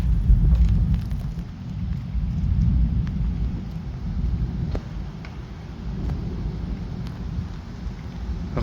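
A violent thunderstorm over Bordeaux brings steady rain and a deep, continuous rumble of thunder, with sporadic sharp drop impacts close to the microphone.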